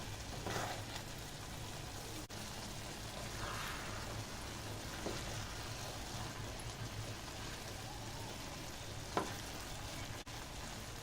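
Rice pulao with peas and paneer cooks in a small pot, giving a steady low sizzle and bubbling with faint stirring scrapes throughout and one brief sharp knock near the end.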